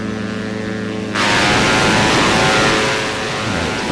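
Propeller engines of a simulated Diamond DA-62 twin aircraft drone loudly in X-Plane 11 over Hawaii, first a harmonic buzzing hum, then a sudden jump to a broad, roaring wash that holds steady.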